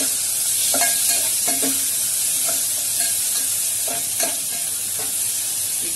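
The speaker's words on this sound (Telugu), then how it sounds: "ఈ టమాటా ముక్కలు, ఉల్లిపాయ ముక్కలు అన్ని కొంచెం వేగంగా ఉంచుకొని" Tomato and onion pieces fry in a pan with a loud, close, continuous hiss, and a spatula scrapes and clacks against the pan at irregular moments. No one talks.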